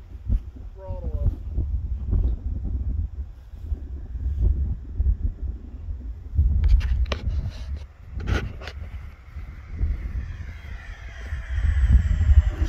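A small radio-controlled model airplane with its gear and flaps down buzzes overhead as the throttle is pushed up outdoors. The thin engine whine rises and sweeps under wind noise and nearby people talking.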